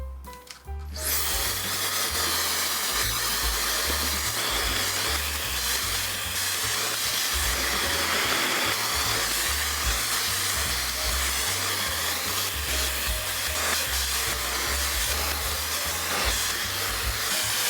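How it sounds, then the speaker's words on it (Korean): A hair dryer blows steadily and loudly for the whole stretch, a continuous rushing hum with slight wavering as it moves around. "한번 타이머 켜놓고 머리 말려볼게요"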